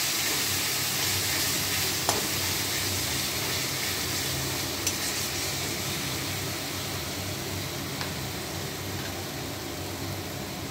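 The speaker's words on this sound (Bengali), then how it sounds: "গুঁড়ো মশলাগুলো প্রথমে একটু মিশিয়ে দিচ্ছি, আঁচটা কম করে রাখলাম" Coriander powder and other ground spices are stirred in a pan over low heat, giving a soft steady sizzle with a few faint scraping taps throughout.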